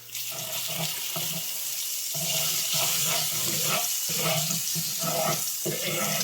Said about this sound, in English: Now let's get some butter in here.